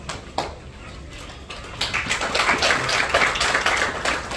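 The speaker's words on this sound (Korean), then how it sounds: "언론인분들이 박수가 적은 것 같아요." Journalists at a city hall press briefing give a thin, scattered round of clapping that starts after a few isolated claps and then builds into a denser patter, fairly close, with no talk over it.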